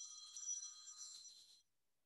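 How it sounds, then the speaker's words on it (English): Phone ringtone of an incoming call during a keynote talk, a bright electronic ring lasting about a second and a half and then cutting off, fairly faint and with no talk over it. "I'm getting a phone call right now."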